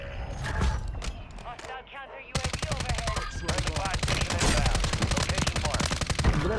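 Rapid bursts of gunfire rattle loudly in Call of Duty Warzone's Fortune's Keep map, with a brief lull before a sustained stream of shots continues to the end.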